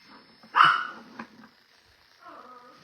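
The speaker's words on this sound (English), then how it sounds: "she's going to keep barking if you say something" A dog barks once loudly and close at the start of a short stretch, followed by a softer second yelp and faint whimpering, with quiet background noise and no talk.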